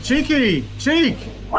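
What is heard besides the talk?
No everyday noise stands out behind the speech.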